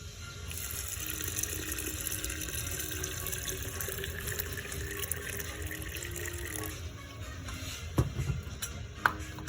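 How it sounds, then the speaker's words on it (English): Water poured from a tap or jug into about three cups of quail feed being prepared for fermenting, a steady close-up trickle and splash running the whole time, with a couple of brief knocks near the end. "And I'm just gonna add some water to it."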